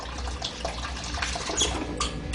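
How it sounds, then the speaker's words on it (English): Water runs steadily from a hotel tap fed by an on-demand hot water system, a continuous broadband hiss that holds throughout with no clear cutoff. "Well, I'm going to shut the water off"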